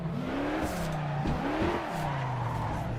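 A retro race car in the Assetto Corsa driving game at Battenbergring, its engine note rising and falling steadily through gear changes, with a brief tire scrub, loud and continuous throughout.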